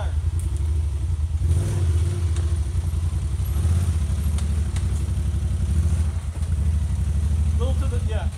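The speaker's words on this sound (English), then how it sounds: "See if you can climb it with your left front tire." A Honda Pioneer UTV on 32-inch tires climbs an off-road obstacle, its mid-pitched engine droning and revving steadily up close, with people talking over it throughout.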